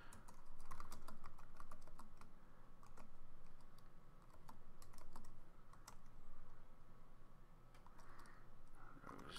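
Python code being typed on a computer keyboard, with steady, rapid clicking keystrokes that come in bursts and short pauses, close to the microphone and alone, with no talking.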